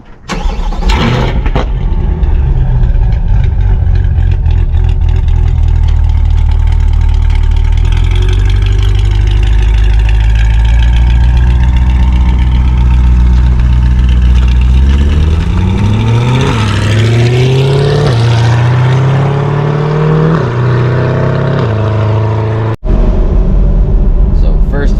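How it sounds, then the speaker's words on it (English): A loud C8 Corvette exhaust with high-flow cats from inside the cabin, engine starting then droning steadily before revving up and dropping off, with a voice over it. "Impressions of the new exhaust from inside the car, definitely much louder."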